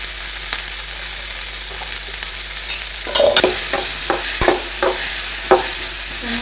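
Chopped tomato frying in a pan for chicken keema gravy gives a low steady sizzle, then a spoon stirs in several scraping, clattering strokes against the pan in the second half, close and clear with no talking.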